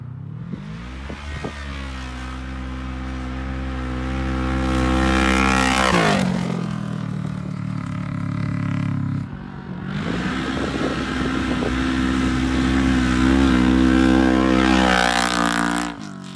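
A Kawasaki KRX side-by-side with a loud aftermarket exhaust, idling with a deep rumble, then revving hard twice with brief drops between, close and loud.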